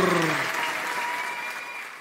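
A church congregation clapping during worship, brisk applause mixed with sustained musical tones, loudest at the start and easing slightly over two seconds.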